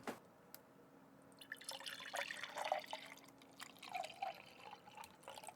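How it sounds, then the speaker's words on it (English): A drink being poured into a glass in a quiet room, faint splashing and trickling liquid with a few soft drips and clinks across a few seconds. "Before we start, I'm going to pour myself a drink."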